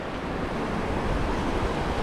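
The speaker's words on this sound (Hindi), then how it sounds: "दरमियान में ये खूबसूरत बहती हुई नदी" A flowing river in the Gabral village valley in Swat, surrounded by stone houses and mountains: a continuous broadband rush of water, steady and fairly loud, with some wind noise and no talking.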